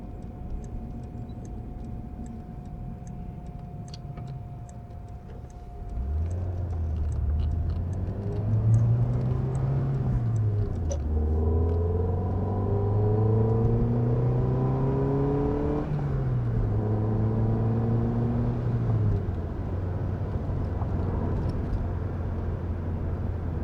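A PGO Hemera sports car with a 1.6-liter BMW-Peugeot engine idles with a ticking indicator, then revs up and down through several rising and falling sweeps before settling back to a steady idle, heard close by.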